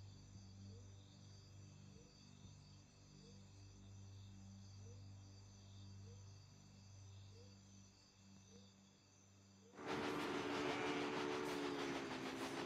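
A freight train runs in the game Railway Empire, a low steady rumble with faint rhythmic clicking of wheels, ending in a sudden loud burst of brighter game sound.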